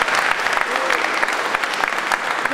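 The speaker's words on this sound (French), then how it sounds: "On applaudit bien fort, GG, s'il vous plaît." An audience applauds at a French slam poetry event: steady, dense clapping fills the room without pause for a couple of seconds.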